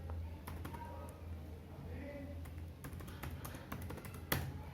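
Keys tapped on a laptop keyboard as a password is entered, scattered light clicks spread across the stretch over a steady low hum, with a slightly sharper tap near the end.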